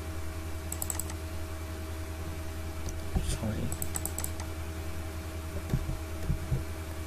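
Keys tapped on a computer keyboard while entering a 5 mm fillet value in SolidWorks CAD software, a few short clusters of soft clicks over a steady low hum, close and quiet.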